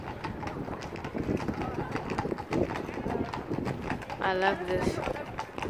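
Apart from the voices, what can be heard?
horse hooves clip-clopping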